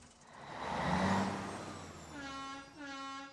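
A cartoon semi truck named Semi-Steve rumbles past with a deep engine drone and a hissing air-brake sweep, then a steady horn-like tone rises toward the end, loud and close with no talking.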